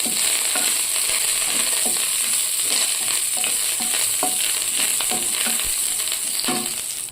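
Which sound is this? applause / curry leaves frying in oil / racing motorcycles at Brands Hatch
curry leaves frying in oil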